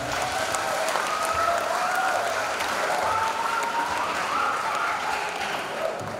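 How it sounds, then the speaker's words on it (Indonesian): A high school audience at a school talk claps steadily in a dense, continuous wash of applause, with faint whistle-like tones drifting through it. "Tepuk tangan buat kita semuanya."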